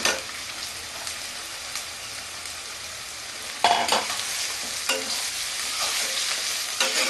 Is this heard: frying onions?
yes